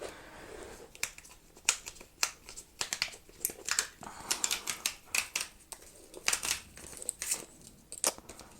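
Packaging of a Corsair MM150 ultra-thin mouse pad is torn and opened up close, with a quiet, irregular run of sharp crinkles, clicks and plastic rustles and no talking.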